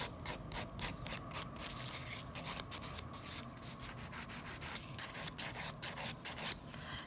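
Quick, rhythmic rasping strokes of a nail file work over an acrylic sculptured nail's lower arch and free edge, close and soft, repeating steadily with brief pauses.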